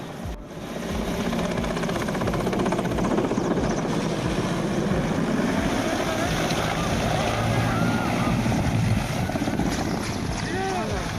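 A loud, steady roar of a helicopter's engine and whirling rotor, continuous and close, with wind-like rushing throughout.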